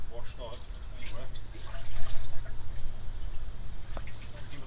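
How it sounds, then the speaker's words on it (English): Water splashes and trickles while a plastic fish tower for a fishpond is rinsed, with uneven pouring and dripping and a voice talking over it. "I'll give it a quick rinse."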